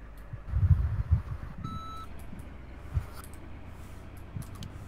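A dump truck's reversing alarm in a firefighting simulator game, a row of thin, evenly spaced electronic beeps over low engine rumble and a few dull thumps, with no voices.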